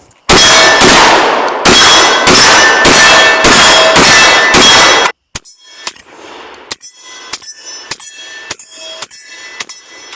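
A lightweight Beretta 1301 shotgun fires Federal training slugs in a rapid string of about six loud, sharp, ringing blasts, followed by quieter clicks and clanks of handling.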